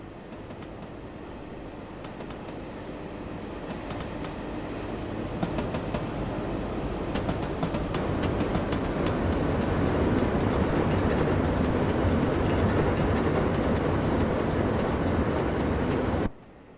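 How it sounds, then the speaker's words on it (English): A freight train hauling West Coast coal on New Zealand's Midland Line toward Canterbury rumbles past steadily, its broad roar building and holding loud for about sixteen seconds before cutting off abruptly. "this is a train load of West Coast coal heading over to Canterbury"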